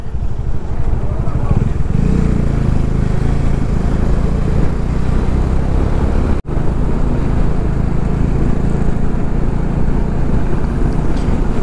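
Motorcycle cruising on a two-lane highway near the Jharkhand–Bihar border in India, a loud steady engine drone with wind rush that continues throughout, briefly cutting out for a moment partway through.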